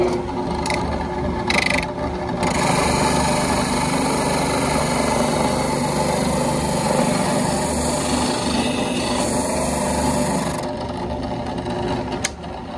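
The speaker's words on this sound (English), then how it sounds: "take this drum sanding attachment that I have for my drill press, and I'm simply going to turn it on" A drill press with a drum sanding attachment sanding wood runs with a loud, steady mechanical whir and grinding for several seconds, cutting out briefly near the start and end.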